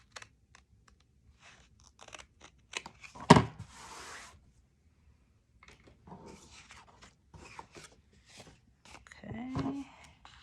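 Paper cut with scissors or a trimmer to make pocket corners for a scrapbook page: sparse crisp snips and clicks, one louder rustling cut, a few short scratchy strokes near the end, close and quiet, with a voice speaking briefly.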